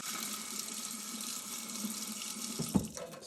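Warm water runs steadily from a tap over a glass decanter, a continuous broad hiss of flow with a brief splashing bump near the end.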